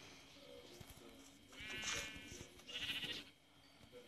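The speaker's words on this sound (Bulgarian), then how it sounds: "Да, е там има овца." Sheep bleats from Minecraft, two brief, moderately loud calls in the middle of the clip over soft in-game ambience and music.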